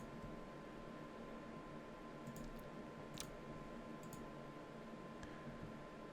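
Mouse clicks on a computer during a website broken-link check, several faint, sharp ticks scattered over a quiet background hiss, no voices.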